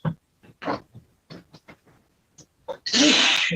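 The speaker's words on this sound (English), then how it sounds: "I'm trying not to sneeze." A judge in a courtroom sneezes, one sharp loud burst at the end preceded by several short stifled sniffs and breaths as the sneeze builds.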